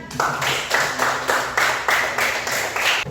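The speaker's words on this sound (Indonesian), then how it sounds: "Tepuk tangan." A group claps in a fairly regular rhythm, roughly three claps per second, as applause in a teacher training session, loud and close.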